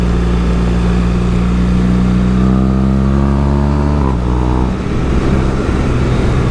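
Motorcycle engine on a country road ride, a loud steady drone close up with a falling pitch as the rider eases off, then a brief dip before the engine note builds again.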